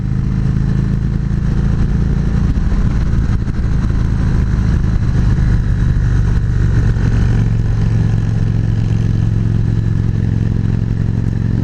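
A Victory Magnum motorcycle engine pulls hard on a demo ride, a loud, steady low rumble with close wind and road clatter that holds throughout, no voices over it.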